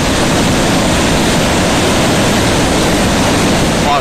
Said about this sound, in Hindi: पहाड़ों से हाहाकार मचाता यहाँ पानी नीचे की तरफ आ रहा है